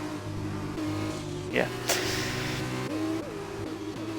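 F2 race car engines in F1 2020 at the Belgium round whine steadily with tonal harmonics, shifting pitch as cars rev and change gear, running under a commentator's voice throughout.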